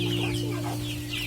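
Recovered Bangkok and village chickens cluck softly in a mixed coop, a close, steady run of low clucks over a constant background hum.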